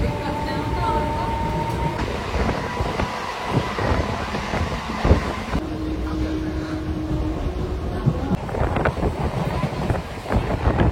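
Suburban local train running from Kalyani toward Sealdah, a continuous rattle and rumble of wheels on track heard from inside the carriage, with wind noise, a brief whistle-like tone and faint background voices.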